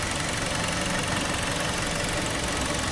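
A 2012 Hyundai Santa Fe's 2.4-liter inline four-cylinder engine idles close by, giving a loud, steady, even hum with no change in pitch or speed.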